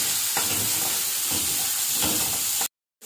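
Onion fries in oil in a pan, a bright steady hiss with a few soft stirring strokes, cutting off abruptly near the end.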